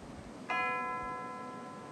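A single bell strike rings out as a stage sound effect in a live Macbeth theatre performance in New York City. Its clear, bright tone lingers and slowly decays over a hushed room.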